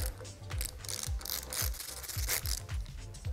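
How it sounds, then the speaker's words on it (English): A 10 mm wrench ratchets repeatedly as it loosens the pinch bolt on the brake lever perch of a 2013+ Kawasaki Ninja 300, giving a steady series of close mechanical clicks and rubbing sounds with no talking. "grab the 10 millimeter again. We will undo the pinch bolt on this whole perch here."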